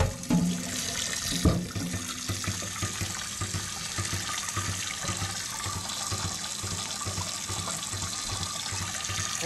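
A rusted cast iron pan is rinsed under a running tap. Water rushes in a loud, steady stream, with a clunk of the pan near the start.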